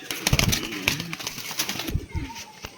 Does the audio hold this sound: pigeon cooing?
yes